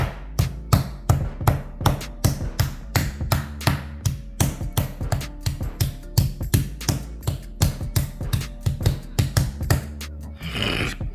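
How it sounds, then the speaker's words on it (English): Repeated dull thuds of the tenderizing side of a meat mallet striking chicken breast on a hard surface, a steady series of close, fairly evenly spaced blows. "You want to use the tenderizing side of the hammer, and we're just going to hit it a couple times."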